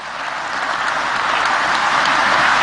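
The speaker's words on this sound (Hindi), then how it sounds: "इस पे भी जोर से ताली बजाओ।" Audience applause at a global investors' summit, a steady dense clapping that swells slightly louder over a few seconds, with no voices over it.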